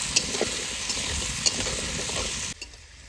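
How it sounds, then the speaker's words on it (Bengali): Kohlrabi and potato pieces fry in a pan with ginger paste, giving a steady close sizzle broken by sharp clicks of stirring, before the frying noise drops away near the end; no one talks. "এবার ভালো করে ওলকপি আলুটা ভেজে নেব"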